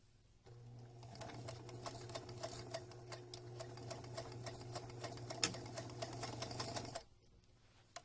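A sewing machine stitches across a narrow pleat in a fabric musician's face mask, running a steady, rapid mechanical chatter for about six seconds before stopping, close and alone.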